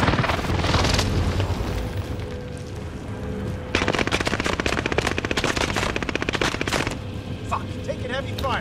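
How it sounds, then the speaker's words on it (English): Dense automatic gunfire and booming shots fill a Call of Duty Warzone match, with loud rapid bursts throughout and an intense rattling volley in the second half, layered over game effects. "taking heavy fire"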